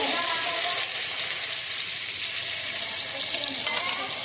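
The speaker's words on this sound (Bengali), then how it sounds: "এবার আমি দেখো কড়াই তেল দিয়েছি, তেলটাও গরম হয়ে গেছে। আমি এবার পনিরগুলো এক এক করে ভেজে নেব।" Paneer pieces frying in hot oil in a wok, giving a steady, close sizzle with faint stirring scrapes and a couple of brief clinks near the end.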